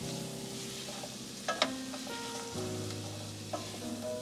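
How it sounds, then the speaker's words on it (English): Chopped onion and garlic stir and cook in a pan for mac and cheese, giving a steady, close sizzle with scraping stir sounds and a few sharper clinks over about four seconds. "you're going to stir this and cook this for 3 to 5 minutes until your onions and your garlic"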